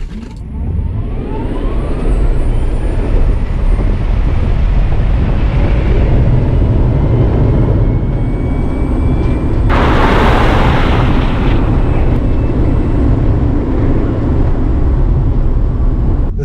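A Tesla Model Y Performance accelerates hard on a drag run, heard from inside the cabin as a loud, steady roar of rushing road and wind noise with a faint rising whine, briefly swelling with extra hiss midway.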